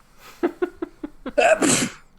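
A single loud sneeze from a person, preceded by a series of short sharp breathy intakes building up before the burst, close and clear with no talk.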